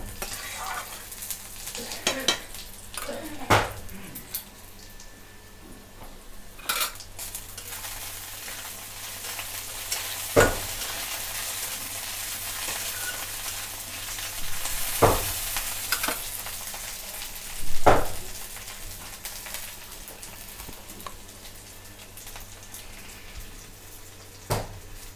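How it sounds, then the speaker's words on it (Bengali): Chili chicken gravy simmering in a kadai, a continuous bubbling sizzle broken by several sharp stirring scrapes and knocks at irregular intervals, with no voices. "দেখুন গ্রেভিটা আমাদের ঠিক ফুটে উঠেছে।"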